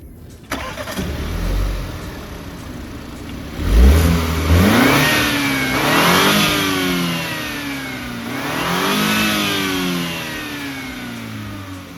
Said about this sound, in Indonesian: Kita coba startup dulu.